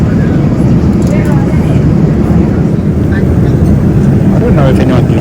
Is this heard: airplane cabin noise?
yes